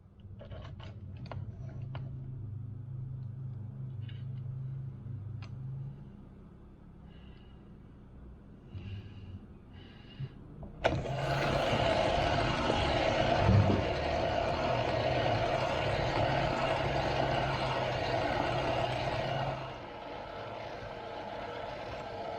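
A sphere machine polishes a Tushar mountain stone sphere with 3,000 grit, giving a steady loud grinding whir with a low hum that starts abruptly partway through and runs continuously until it drops near the end.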